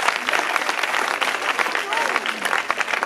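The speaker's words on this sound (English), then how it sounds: "Clap for Jesus." Church congregation applauding at a prophecy service, dense sustained clapping from a large crowd, loud and continuous throughout with voices mixed in.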